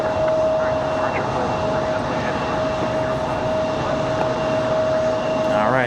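Airliner taking off from the runway at Raleigh Durham airport, a loud, sustained engine roar with a steady high whine, constant throughout from a fairly close vantage.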